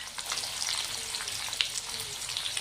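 Onions drop into hot oil with crackling mustard and cumin seeds for a brinjal palya, producing a bright, steady close sizzle with small pops and a soft stirring clink.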